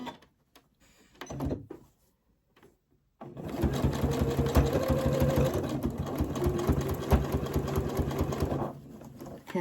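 Domestic sewing machine stitching through a small rice-filled fabric fidget toy, a close rapid mechanical chatter running steadily for about six seconds after a few quiet handling clicks.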